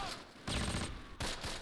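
Gunfire in the WWII strategy game Close Combat, set at Barenton in 1944, comes in rapid crackling bursts of rifle and machine-gun fire, fairly distant and continuous, with no talk over it.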